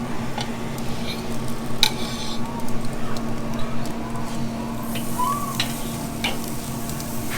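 Wagyu tri-tip from Ventura Meat Company sears on a barbecue grill with a steady, fairly loud sizzle and crackle, joined by a low constant hum and a few sharp ticks and clicks.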